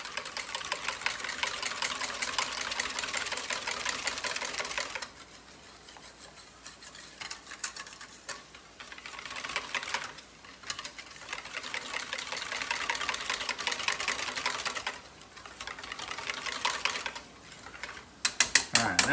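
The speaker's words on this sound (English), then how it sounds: "Whisk that in. Get that really well incorporated." A whisk beats baking powder into a traditional dressing, giving rapid, rhythmic scraping and clicking in bursts with short pauses between them. The sound is fairly close and moderately loud.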